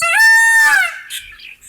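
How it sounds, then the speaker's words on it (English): A peacock on a farm gives a single loud, shrill, rising-then-falling holler, close and clear, followed by a few faint after-sounds. "there's the peacock hollering"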